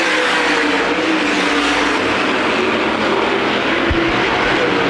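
USA Modified race cars thunder around Winchester Speedway in a dense, loud engine roar that holds steady with slight swells as the pack passes.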